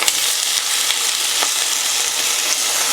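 Bitter melon fries in a tablespoon or two of oil over medium-high heat, giving a steady, loud sizzle with faint crackles throughout and no talking.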